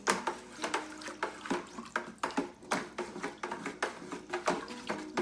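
Pickling lime stirred in a bucket with rhythmic scraping and swishing strokes, roughly two per second, close up with a clinking edge against the bucket sides and no talk.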